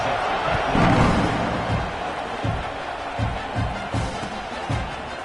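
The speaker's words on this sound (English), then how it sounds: "this crowd is buzzing after that last score" A stadium crowd buzzes steadily at a college football game just after a score, with the broad roar sitting close and full and a few dull thumps landing beneath it.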